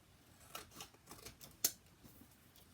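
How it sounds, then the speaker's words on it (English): Quiet, close snips of scissors cutting paper, a few soft cuts followed by one sharper snip, with no voices. "I'm going to snip off this excess"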